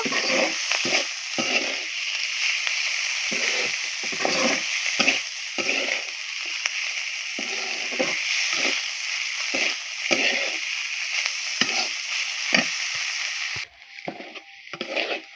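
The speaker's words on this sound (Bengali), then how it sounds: "এবার একটু লাল লাল করে ভেজে নিব" Taki fish mash (bharta) fries in a pan until reddish. A steady close hiss runs throughout, with intermittent low scraping bursts from stirring and a brief change near the end, with no voices.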